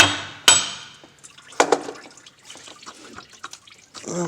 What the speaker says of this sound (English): Let's go ahead and hit it with the hammer.